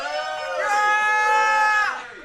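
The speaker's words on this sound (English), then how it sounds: "And a cheer for" A live pub audience cheers and whoops to vote for a grey hat, a loud, sustained burst of voices lasting about two seconds before tailing off.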